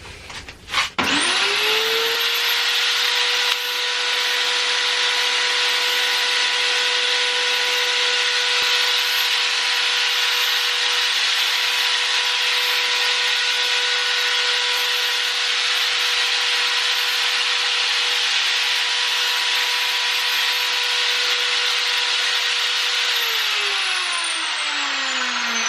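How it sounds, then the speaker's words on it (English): A router cuts a 3mm groove along a 750mm wooden strip, spinning up to a loud steady high whine that holds for over twenty seconds before winding down, with no talk. "Then route a 3mm groove, setting the router blade to leave a 3mm ridge at the edge."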